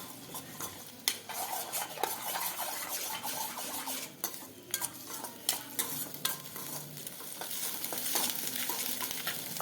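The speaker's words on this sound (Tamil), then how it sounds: "ஒரு முட்டையை அதில் உடச்சி ஊற்றிட்டு நல்லா கலந்து விட்டுறணும்" A beaten egg is stirred into onions frying in a pan for an egg and potato fry: a steady sizzle runs under repeated scraping and clinking of a spoon against the pan, close and continuous with no talking.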